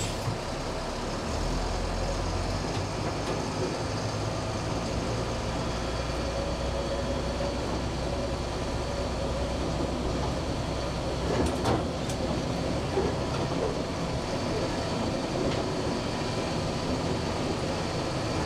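An LMTV military truck in cross-country mode drives off-road, its heavy diesel engine giving a steady, loud rumble throughout, with a few brief rattles and hiss-like bursts near the middle.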